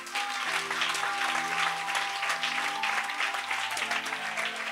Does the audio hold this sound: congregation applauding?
yes